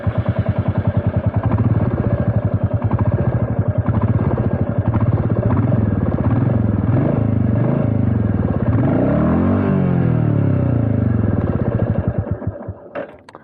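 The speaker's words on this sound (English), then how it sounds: "I'll just let you hear what's the exhaust note of this bike" Royal Enfield Classic 350 motorcycle with a Meteor-derived single-cylinder engine, its exhaust thumping steadily and close by, revving and falling back before cutting off near the end.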